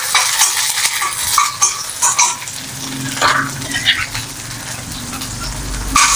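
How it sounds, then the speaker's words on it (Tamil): Garlic, ginger and tamarind fry in a pan for a horse gram chutney, giving a loud, close sizzle broken by repeated scraping and stirring strokes and a few light utensil knocks. "அதையும் போட்டுட்டு நல்லா வறுத்துக்கலாம்"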